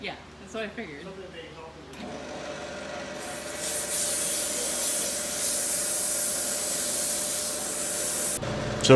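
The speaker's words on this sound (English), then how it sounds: "once we had it sanded down to 1500 grit" Wood being sanded by hand with fine sandpaper up to 1500 grit, a steady rough rubbing hiss that follows brief speech and continues for several seconds.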